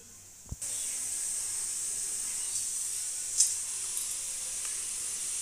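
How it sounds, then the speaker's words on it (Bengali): A pressure cooker on the stove cooking potato curry gives a steady, loud high hiss of escaping steam, with a sharp click at the start and a few brief louder spurts, and no talk. "তো প্রেশার কুকারে তরকারি হচ্ছে, বসিয়ে দিয়েছি।"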